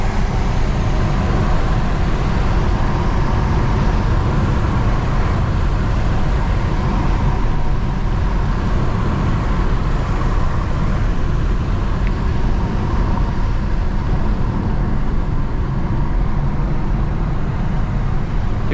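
A steady, loud broadband rumble of road and tire noise from inside a 2012 Mercedes C300 CDI 4Matic cruising on a road, continuous and unchanging throughout, with no voices.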